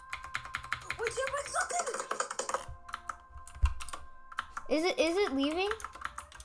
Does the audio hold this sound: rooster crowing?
no